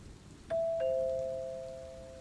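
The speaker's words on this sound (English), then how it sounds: "The doorbell rang again." A two-tone ding-dong doorbell chime: two clear tones, the second starting just after the first, both ringing out and fading slowly in a quiet room.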